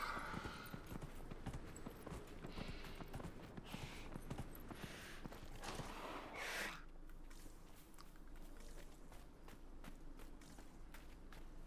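Steady hoofbeats of a demon horse in Dragon Age: Inquisition clip-clopping at a walking pace over a constant background rumble, with a brief louder rustle partway through.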